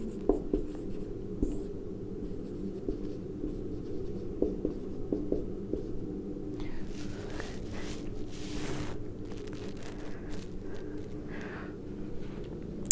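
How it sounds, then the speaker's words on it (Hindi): Writing on a board during a lesson: faint, irregular scratching strokes across a quiet room, with a few soft steps and small knocks in between. "अब जैसे इसको हम लिखेंगे तो क्या लिखेंगे?"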